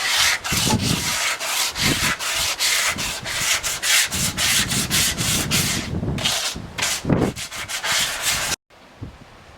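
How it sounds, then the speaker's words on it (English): Sander working around the top rim of a cut wine barrel, a loud abrasive rubbing rasp in rapid, repeated strokes that continues steadily before cutting off abruptly near the end. "just get a sander and just go around the top of the rim just to remove all the little sharp splinters"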